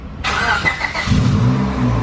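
A Honda Integra under reassembly starts up and pulls away under its own power, a loud close engine note that jumps in abruptly and then settles into a steady low drone as the car moves.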